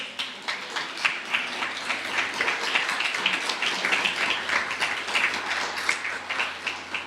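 A church congregation claps steadily and densely for about seven seconds, a continuous wash of many hands with no voices standing out, during a pastor's sermon.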